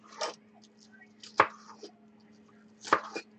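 A knife chops green onions on a board in a quiet kitchen, making three sparse, crisp thuds a second or so apart over a faint steady hum.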